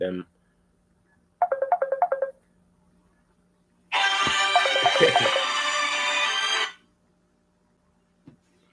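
A phone ringtone plays as a brief, patterned electronic trill, followed by a longer, loud, noisy burst and then quiet. The setting is a home livestream.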